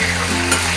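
Tomato and onion fry in oil with whole spices, a loud, close, continuous sizzle with brisk stirring in the pan; no one speaks.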